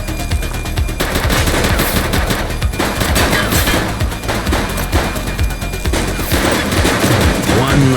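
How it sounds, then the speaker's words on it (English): Sustained video-game gunfire from The Precinct, police shootout rattling with dense bursts of shots over a loud, busy mix with music and effects, faint voices mixed in. "Shots fired!"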